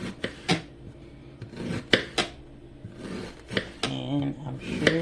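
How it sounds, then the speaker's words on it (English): Knife chopping onion, celery, red and green bell pepper and garlic on a board, with irregular sharp taps and scraping rasps near and clear, while a voice talks over the kitchen sounds. "onion, celery, red bell pepper, and green bell pepper, and also garlic. So we're going to chop these up"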